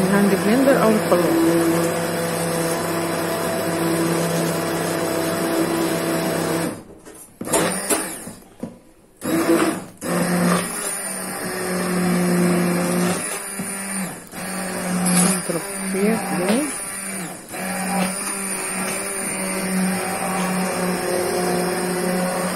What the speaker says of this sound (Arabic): الهاند بلندر او الخلاط